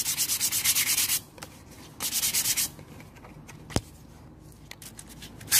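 Sandpaper of 180 or 220 grit rubbed over an MDF box: close, rhythmic bursts of scratchy strokes in two runs, then quieter scattered rubbing and a few light knocks.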